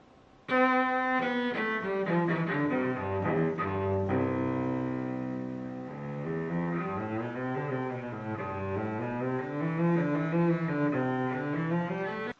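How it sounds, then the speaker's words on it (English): A cello bowed solo, sustained rich low notes sliding and changing pitch in a slow melodic phrase, close and clear, with no talking over it. "Okay, that is the cello."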